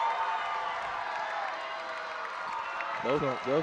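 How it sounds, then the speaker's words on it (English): A high school basketball crowd with both student sections on their feet, cheering and clapping steadily in a gym, a broad sustained roar with a voice breaking in near the end. "Both student sections still on their feet, and they're still cheering pretty well here"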